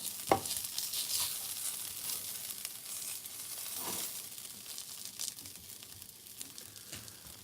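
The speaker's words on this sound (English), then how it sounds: "we're going to keep cooking that rib" A rib being reheated in a pan sizzles with a steady, moderately loud hiss, broken by occasional pops and crackles and a few utensil clatters, without speech.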